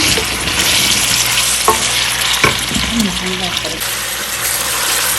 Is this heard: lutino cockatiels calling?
no